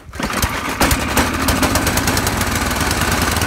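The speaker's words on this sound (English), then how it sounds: "You can turn your snow blower at the absolute minimum, and it still runs like that." A snow blower engine, turned down to minimum idle after a cold start, runs loud and close with a rough, rapid knocking chug throughout and no talking.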